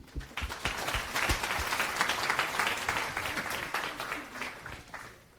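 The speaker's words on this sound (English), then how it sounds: "Big round of applause for Leo." Applause from a conference audience at a talk on building a JavaScript runtime with Rust, a steady moderately loud wash of many hands clapping with distinct sharp claps that trails off toward the end.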